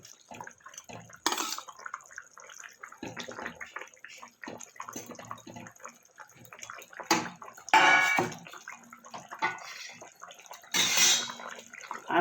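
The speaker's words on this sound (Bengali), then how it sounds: "ঝোলটা আমার ফুটে গেছে, এবার আমি ভেজে রাখা মাছগুলো দিয়ে দেবো।" Fried fish pieces go into a pot of boiling fish broth with maan kochu, giving soft splashes, bubbling liquid and occasional clinks of utensils against the pot, close and moderately quiet, with no voices.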